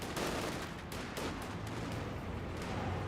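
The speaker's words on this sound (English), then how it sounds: "Good focus fire there by the rifleman." Rifle fire crackles in a Company of Heroes 2 battle, with sharp shots and short volleys popping repeatedly over a steady din of game combat.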